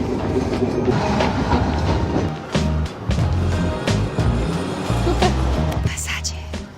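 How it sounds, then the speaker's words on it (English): A Milan tram starts moving, with loud continuous rolling rumble and rhythmic wheel clatter on the rails, a brief dip midway, and some talk mixed in. "Hold on, the tram is about to move."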